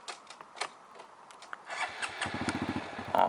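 A manual-transmission motorcycle engine is started. A few clicks are followed by the engine catching and sputtering into a rapid, pulsing idle close by.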